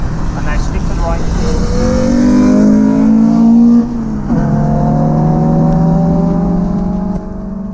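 A car lapping the Bedford Autodrome race track during a track day revs hard, its engine note climbing, dropping sharply at a gear change, then climbing again, loud and close throughout.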